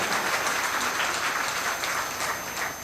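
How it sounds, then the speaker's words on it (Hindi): Loud, dense applause from a crowd at a Kabir Jayanti festival gathering in Chhattisgarh, steady and sustained throughout, greeting the chief minister. "उनके लिए जोरदार ताली बजाएंगे आप लोग"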